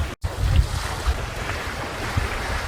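Steady gusting wind and wave wash on a sailboat running under jib alone at about six knots, with low rumbling microphone buffeting throughout and a brief dropout near the start.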